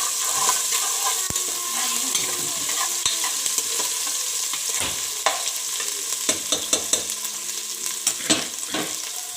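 Garlic and ginger paste hits sizzling onions in a pan: a steady close frying hiss with scraping stirs and light clinks of the spoon against the pan, with no speech.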